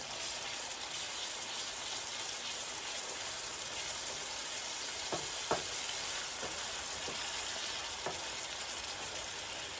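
Just over a pound of ground beef browns in a pan for stuffed peppers, giving a soft, steady sizzle with a few brief clicks of a utensil scraping or stirring, quiet and unaccompanied by talk.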